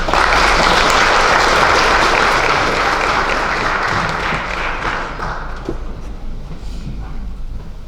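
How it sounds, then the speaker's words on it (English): Loud, full applause from an audience at a Kwibuka 30 commemoration event in Sweden rolls on strongly for several seconds before gradually fading and thinning out. "Please give him a round of applause."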